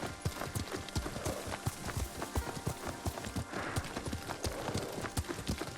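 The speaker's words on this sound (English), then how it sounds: "Lord Sakai taught me to ride a horse." A horse clip-clops steadily at a brisk pace under a rider in Ghost of Tsushima, the hoofbeats dense and close over a continuous wash of wind and outdoor ambience, with no talking.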